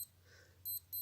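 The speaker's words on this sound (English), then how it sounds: "and that's the alarm tone." A Casio Protrek PRW-6000 wristwatch sounds its alarm tone, two short, piercing high electronic beeps in quick succession, faint and close, over near silence.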